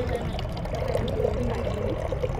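Water pours steadily through a siphon tube into a bottle at a science fair demonstration, a continuous close trickling stream over busy background noise.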